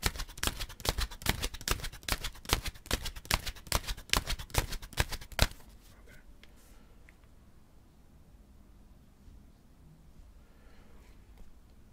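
Tarot cards shuffled for a ten-card Celtic Cross spread, a rapid run of crisp riffling snaps for about five seconds, then quiet room tone.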